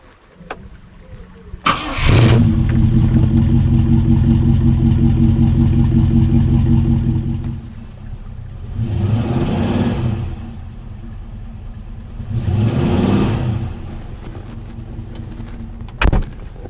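A car with a newly fitted stainless steel exhaust starts up and settles into a loud, steady idle, then gives two swelling revs and drops back before a sharp click at the end.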